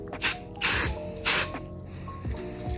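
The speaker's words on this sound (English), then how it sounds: "the adhesive glue that I just sprayed" Three short, close hissing bursts of spray adhesive from an aerosol can, evenly spaced, followed by faint clicks.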